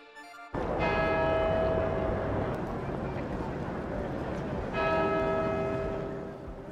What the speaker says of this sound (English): The bells of Westminster Abbey in London tolled today at exactly the moment the fire at Notre-Dame began.